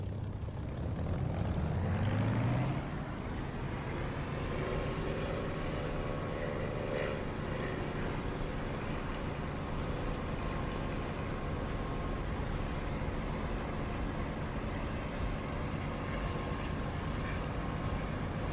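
A propeller aircraft engine in the DCS flight sim throttles up for takeoff, rising to a steady, continuous drone that holds for the rest of the stretch.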